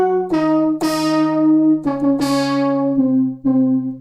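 Synth brass with a chorus effect in a Silent Hill-inspired style, playing a slow sequence of sustained stacked chords that shift step by step, close and alone with no voices.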